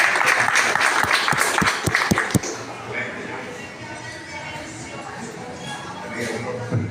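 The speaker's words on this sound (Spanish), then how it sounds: "Un aplauso para el profesor." An audience at a history congress applauds a professor, the clapping rising briefly amid a few sharp knocks and shuffles, then thinning into quieter room noise while a voice talks nearby.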